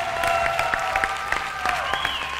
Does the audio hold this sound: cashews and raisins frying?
no